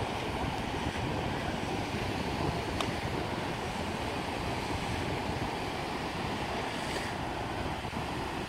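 Choppy sea waves break on a beach in a constant, loud roar of surf, heavily mixed with wind buffeting the microphone, with no voices.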